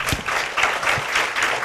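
An audience applauds a presenter at a pitch event, with steady dense clapping filling the whole moment, loud and close without any talk.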